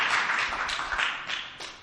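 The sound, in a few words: audience clapping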